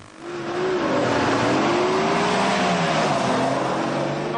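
Off-road race cars roar around the track at the 1994 Bridgestone International in Kempsey, engines revving hard and rising in pitch as they pass close by, a loud continuous drone with shifting engine tones.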